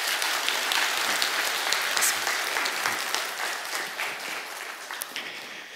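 A church congregation at a Sunday worship service applauds a scholarship presentation, a dense, sustained wash of clapping that stays full before thinning slightly toward the end.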